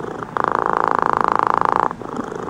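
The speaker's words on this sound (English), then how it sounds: "Cat purring, listen to this one." Cat purring played from a sleep sounds app on an iPhone, a close, steady rhythmic rumble lasting under two seconds with soft ambient quiet before and after.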